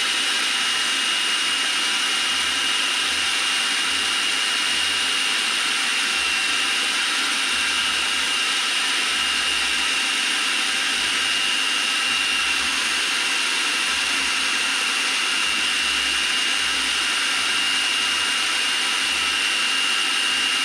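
Food processor running with a cup of flaxseed meal inside, a loud continuous motor whine and whirr that holds steady and unbroken throughout without any talking.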